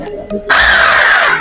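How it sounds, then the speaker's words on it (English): A power drill boring a hole to mount a 24V inverter: after a couple of soft clicks, the motor starts abruptly and whines loudly and steadily for about a second, its pitch sagging slightly under load, close and with no talking. "After marking, we have to bring our drill"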